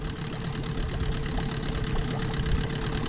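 Steady close running of a Mikatsu 9.8 outboard on its break-in, both cylinders firing in an even, rapid putter with a slight vibrating rattle and no pause.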